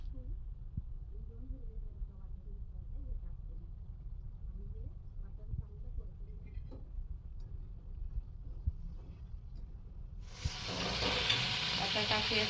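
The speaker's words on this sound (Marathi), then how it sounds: "एक चमचा अद्रक लसूण पेस्ट टाकते मी आणि चांगली परतून घ्यायची ही पेस्ट तेलामध्ये कांद्यामध्ये" Ginger garlic paste sautéing in oil with onions, a low steady sizzle with occasional stirring scrapes, growing into a brighter, louder hiss near the end.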